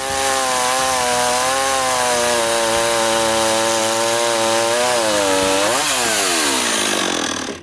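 A chainsaw cuts roughly across the end of a wooden rafter for a shop roof truss, running loud and steady at high revs before the pitch dips and rises again near the end as the blade finishes the cut.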